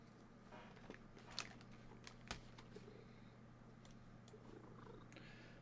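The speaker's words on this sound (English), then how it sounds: "hear that cat so loud" A cat purring loudly and close, a steady low rumbling drone running throughout with a few faint clicks and small sharp noises over it.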